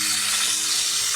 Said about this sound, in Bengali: যে চিংড়িগুলিকে হলুদ লবণ মেখে ভেজে নিব